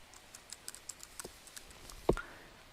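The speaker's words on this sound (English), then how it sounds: "you can go ahead and type in your Gmail account and your password" Typing on a computer keyboard to enter a Gmail account and password: a quick run of light, close key clicks, fairly quiet, ending in one sharper keystroke, with no talk.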